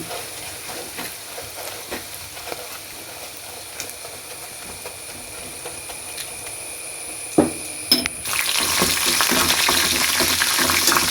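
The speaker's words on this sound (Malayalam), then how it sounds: "നമ്മുടെ ബീഫ് ഫ്രൈ ഇവിടെ ഫ്രൈ ആയിക്കൊണ്ടിരിക്കുകയാണ്" Beef fry sizzles in a pan at a low, steady level, then a couple of utensil knocks are followed by a much louder, broader sizzle as more ingredients go in.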